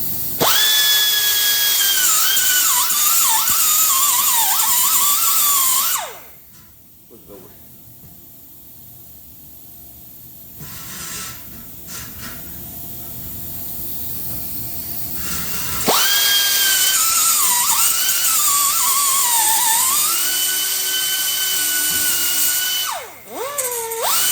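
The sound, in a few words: power tool cutting slits in motorcycle exhaust pipe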